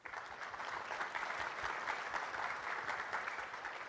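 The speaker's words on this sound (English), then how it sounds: "I'd like to get a quick round of applause for all of them." Steady, dense applause from a large keynote audience at a conference, a continuous wash of many hands clapping at moderate distance, holding even for several seconds with no voices over it.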